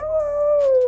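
Dante the dog, in a storybook sound effect, croons in a single sustained tonal howl that holds steady, then dips slightly before cutting off, close and fairly loud.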